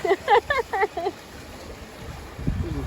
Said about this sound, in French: Il y a un vent.